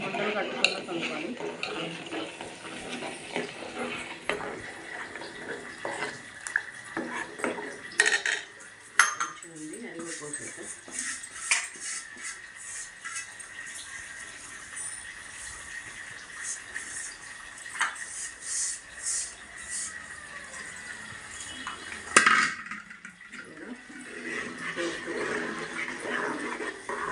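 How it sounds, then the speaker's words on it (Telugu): Semolina stirred into milk in a metal pot, with repeated scraping and clinking of a spoon against the pan and occasional liquid sloshing, close by, while a person talks throughout. "రవ్వ కలుపుతూ ఉండాలి."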